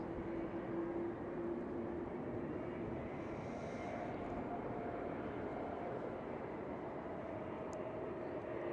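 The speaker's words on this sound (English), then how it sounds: "And this KLM A330 who is starting to taxi out." A KLM Airbus A330 airliner taxis out at Schiphol Airport, a steady, fairly distant engine rumble and whine that holds an even level throughout without anyone talking.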